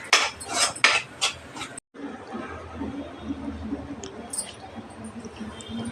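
Prawn curry with pepper powder being stirred in a pan: brief voices and laughter open, then a steady rattle and scrape of a utensil against the pan, moderately close.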